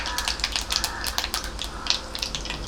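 Mustard seeds crackle and pop in hot oil for tempering, a dense run of sharp rapid spits and ticks heard close over a faint background hum.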